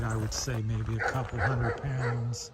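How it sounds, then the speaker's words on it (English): A dog barks and yips repeatedly in the background, several short bursts mixed under someone talking close to the microphone outdoors near a landscaping trailer. "pardon the dog in the background"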